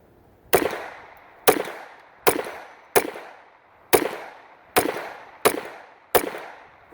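Pistol shots fired during testing of new CCI ammunition outdoors, eight loud, sharp reports spaced roughly evenly about a second apart, each with a short decaying echo, with no voices.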